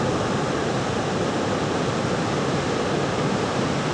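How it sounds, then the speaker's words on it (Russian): Roaring Iguazu waterfalls on the Brazilian side, a loud, steady, broadband rush of falling water that fills the whole clip without a break. "Вот, пытаемся снять водопад"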